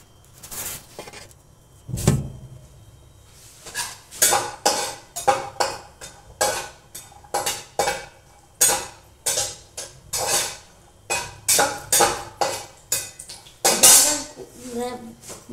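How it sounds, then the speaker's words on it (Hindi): A spatula scrapes and clinks rhythmically against a pan as dry fruits roast in ghee for gujiya, with repeated metallic strokes and faint talk in the background. "इधर ड्राई फ्रूट थोड़े रोस्ट हो रहे हैं"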